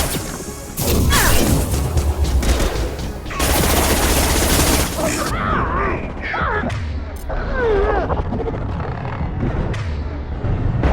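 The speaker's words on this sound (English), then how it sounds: "Impact shot!" Mass Effect 2 combat with an impact shot and gunfire: heavy crashing blasts and rapid bursts of shots, loud and dense at first, then thinner with sci-fi effects and voices in the mix.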